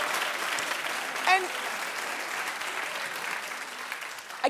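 A talk show studio audience claps in unison, a broad steady applause with a brief whoop rising above it and a short spoken word at the end.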